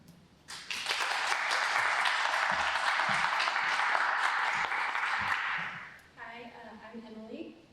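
An audience applauds to welcome an artist at an art talk, a dense burst of clapping lasting several seconds before fading, followed by a voice speaking.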